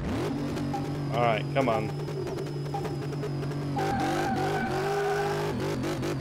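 Corvette engine in Car Mechanic Simulator 2018 holds a steady drone, then revs up in rising sweeps of acceleration and gear changes, with a voice talking briefly over it.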